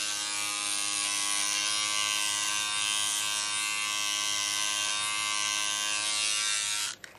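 An electric body groomer trimming body hair below the neckline, a steady close buzzing drone that runs unbroken for several seconds before cutting off abruptly at the end.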